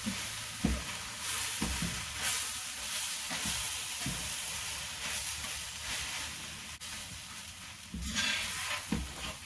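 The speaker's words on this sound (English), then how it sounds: "And I'm just going to mix it all together." A carrot-top dish with Romano cheese is stirred in a hot pan, a soft, continuous sizzle and hiss with occasional scraping strokes of a utensil at irregular intervals, close by and without speech.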